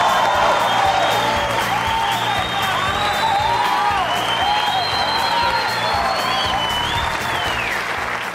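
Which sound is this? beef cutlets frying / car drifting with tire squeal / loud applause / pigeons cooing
loud applause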